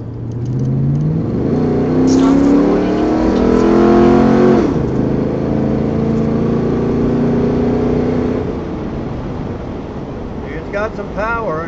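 A 1968 Chevelle Nomad wagon's engine, being checked for a misfire, revs up through the gears, pitch climbing in strong sweeps with no miss heard, before easing off to a steady cruise, with a voice chiming in near the end.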